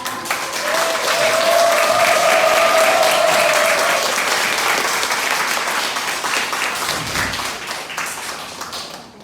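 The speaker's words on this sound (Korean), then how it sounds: "박수 고맙습니다" An audience applauds as a pastor's lecture on believing and living rightly begins, a sustained wash of clapping that swells early, holds, then gradually tapers with a faint voice briefly over it.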